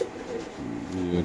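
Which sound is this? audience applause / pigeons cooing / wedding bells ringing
pigeons cooing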